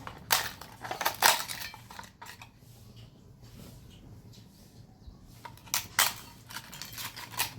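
Fried urad dal papad crushed by hand produces quiet, crisp crackling bursts, clustered at the start and again near the end with a softer lull between.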